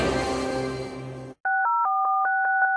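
Telephone keypad tones play in a Colombian radio advertisement, about seven crisp, evenly paced dialing beeps that start right after a sustained musical chord cuts off.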